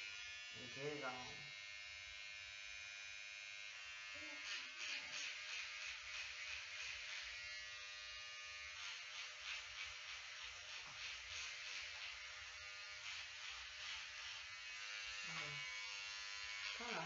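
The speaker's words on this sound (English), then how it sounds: "I'm about to shave." An electric shaver cutting hair runs as a steady, close, high buzzing whir for the whole stretch, with brief bursts of a voice breaking in now and then.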